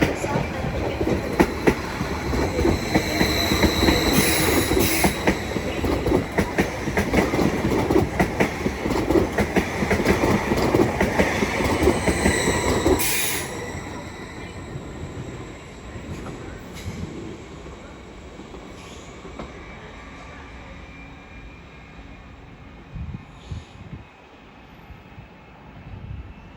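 A Greater Anglia train arrives at Stratford station on the Great Eastern Main Line, its loud rumbling and rhythmic wheel clatter filling the platform before cutting to a quieter hum as it slows, with a few squeals and bumps after.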